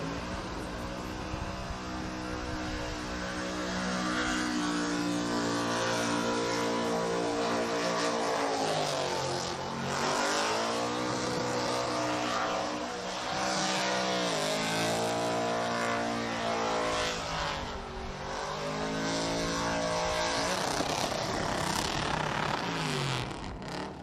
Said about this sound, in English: hear that RPM go up so quick and just smash limiter